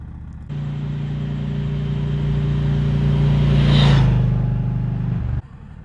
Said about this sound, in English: And we have a little bit of traffic.